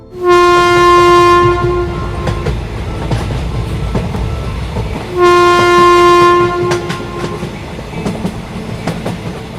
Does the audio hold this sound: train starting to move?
yes